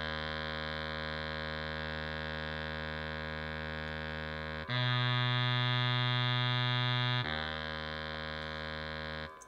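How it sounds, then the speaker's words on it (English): A baritone sax line from a Logic Pro factory pop horns patch plays sustained low notes, holding one pitch, jumping to another for a couple of seconds, then returning, loud and alone with no talk. "And the next track is a baritone sax."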